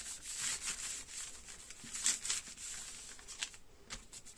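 Sprayed paper, folded in half, rubbed around by hand with a steady, soft papery scuffing and brushing close by, in uneven bursts with no voices.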